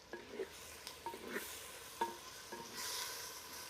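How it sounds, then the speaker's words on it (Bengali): Onions fry gently for a handi mutton dish, giving a faint, steady sizzle under scattered stirring clicks and spoon knocks, with the hiss growing louder near the end. "পেঁয়াজটা ভাজা হয়ে গেছে।"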